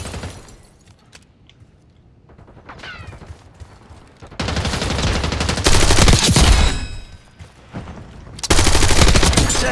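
Call of Duty Black Ops 6 multiplayer gunfire starts sparse and distant, then erupts into loud, sustained automatic bursts in several waves, with brief mechanical clicks between volleys.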